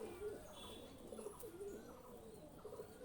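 Several soft, low coos from Pakistani high-flyer pigeons repeat in a gentle rhythm nearby, over a faint background hum with no talking.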